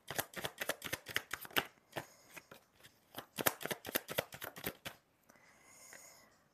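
Tarot cards are shuffled during a card reading: quick crisp riffles and snapping flicks in bursts, close and fairly quiet, ending in a softer sliding rustle, with no talking.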